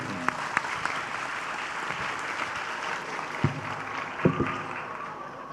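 A crowd at the 55th anniversary gathering of SMA Nahdlatul Ulama 1 Gresik applauds the regent, steady moderate clapping throughout with a few louder nearby claps standing out.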